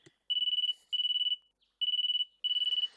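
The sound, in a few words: phone alarm beeping in Riddle Joker video game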